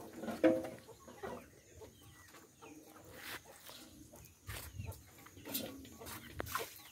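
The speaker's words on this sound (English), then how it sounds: "And these are the chickens." Chickens clucking in an African village, several birds giving short, scattered clucks near and farther off, with faint background activity and a few louder calls.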